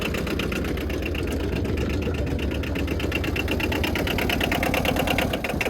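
A diesel quad engine running with its throttle stuck open from a sticky governor, a loud, steady, close-up mechanical clatter that keeps a fast, even rhythm throughout.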